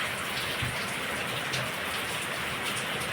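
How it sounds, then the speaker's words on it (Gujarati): Heavy rain pours down steadily, a dense continuous hiss of drops drumming on surfaces, loud and close throughout with no voices. "આજે આપણે સાંજે જમણવારમાં વરસાદ ચાલુ છે અત્યારે ધબધબાટી બોલાવે"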